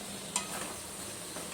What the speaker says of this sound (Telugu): మధ్య మధ్యలో ఇలా చూసుకుంటూ కలబెట్టుకుంటాం